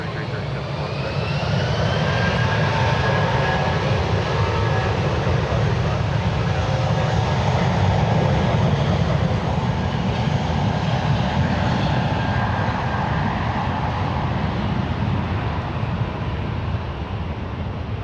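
An airliner roars down the runway on its takeoff run at San Francisco International Airport, a loud sustained jet engine rumble and whine that builds and holds, with air traffic control radio chatter underneath.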